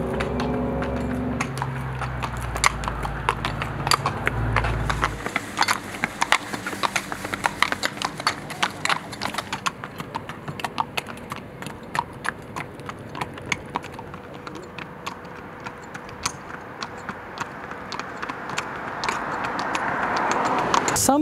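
Police horses patrolling a street in Dubai, their hooves clip-clopping in a steady, close rhythm on the pavement, with a deeper engine-like rumble over the first few seconds.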